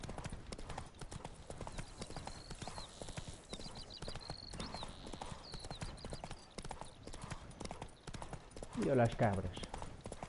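The horse Roach galloping in The Witcher 3 video game, rapid rhythmic hoofbeats running steadily throughout with a brief whinny near the end, while someone speaks over it.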